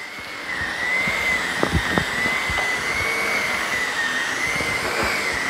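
A Sebo K3 canister vacuum cleaner runs on its high setting, giving a steady, fairly quiet whine and airflow hiss that holds evenly throughout, with a few soft knocks and handling bumps underneath.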